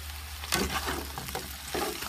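Eggplant fries in oil in a small pan with a soft, steady sizzle. Sharper crackles and bursts come through as the pieces shift, close by, with no voices.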